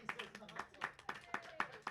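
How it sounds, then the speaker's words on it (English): Spectators at a women's cricket league match give a short, sparse round of clapping for a score of 100, about a dozen light claps in an even rhythm, faint and somewhat distant. "Give that a little clap for the 100 up."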